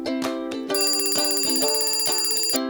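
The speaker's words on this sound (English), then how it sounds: "That's the alarm." A ringing alarm in a children's animated story: a bright, repeating electronic ring that starts with a few separate notes, then rings steadily before stopping.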